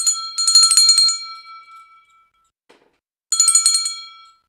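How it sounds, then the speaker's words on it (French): A loud, bright bell rings in a sustained burst that fades away, then falls silent before a second ringing burst starts and decays, with no voices. "Donc, la cloche sonnait"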